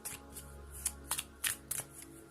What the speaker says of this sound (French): On va prendre une carte pour voir un petit peu aussi